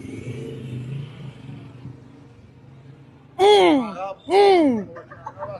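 Two loud, rising motorcycle engine revs burst out one after the other, close by, following a low idling rumble.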